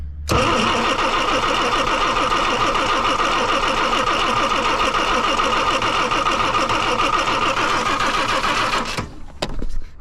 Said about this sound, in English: you're going to want to spin the motor over until the fuel comes up to the fuel filter itself